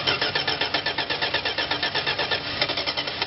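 A 1971 Dodge Coronet engine cranks over loudly and steadily with a fast, even chugging rhythm from the starter, close by and without any voices.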